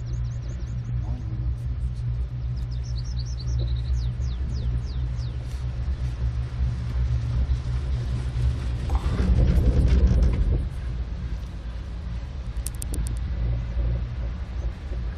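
A 950 hp drive motor of the St Anna ski lift in Italy gives a steady low rumble and mechanical drone, louder for a moment midway, with voices talking over it.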